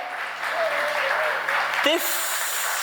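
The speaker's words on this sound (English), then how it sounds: "Ladies and gentlemen, a big round of applause for Sushant Sriram" Audience applause at a fan event for The Lord of the Rings: The Rings of Power, a steady wash of clapping over a low hum, with a brief rustling knock near the end.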